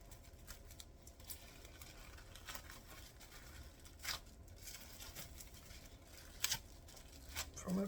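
Soft crinkling and rustling of plastic wrap around pie crust dough as it is wrapped and pressed, with a few crackly bursts and pats, close and quiet.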